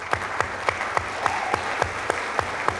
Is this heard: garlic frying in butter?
no